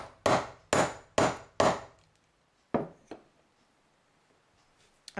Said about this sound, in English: you can flatten them out by just hammering around the edges here